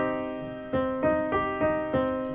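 A minor chord is played five times in an even, steady rhythm, each strike ringing out clearly at moderate volume with no voices.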